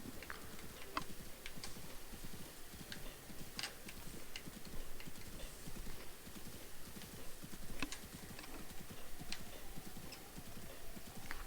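Horse hooves clip-clopping in the video game The Legend of Zelda: Breath of the Wild, a steady, fairly quiet trotting rhythm with faint game ambience and no talk.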